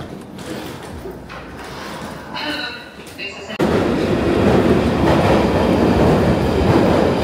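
A train rolls along the rails in London near Borough Market, a steady loud rumble with clattering wagon noise that swells sharply midway and holds close and strong, with a voice talking in the first half.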